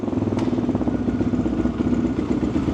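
A Geon motorcycle engine running after a new chain was fitted, a loud, close, rhythmic mid-pitched putter with a steady pulsing beat and light mechanical clatter.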